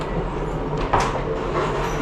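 Steady low rumble of a UK train carriage rolling along the rails, a continuous near drone with a brief clunk partway through and no talk.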